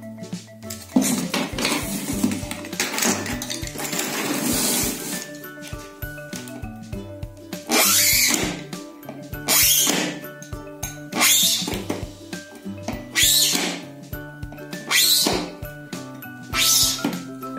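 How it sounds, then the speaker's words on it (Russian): Special handmade knife scoring 10 mm thick acrylic sheet, a series of loud close scraping strokes in irregular bursts with clunks and clatter of handling between them, no talking. "А сейчас мы попробуем пильнуть акрил толщиной 10 мм."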